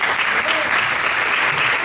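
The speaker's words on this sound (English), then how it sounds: "give them a round of applause" Dense, sustained applause from a film festival audience in a hall, steady and loud throughout, with faint voices mixed in.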